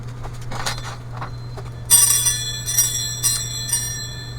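Homemade wind chime made from metal tags, giving a few bright, sharp metallic rings with shimmering sustained tones that overlap and decay, close and fairly loud, no talking.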